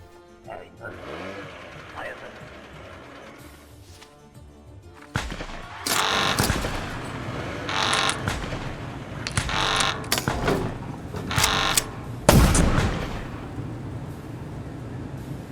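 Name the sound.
gunfire and explosions of a terrorist attack in video game Papers Please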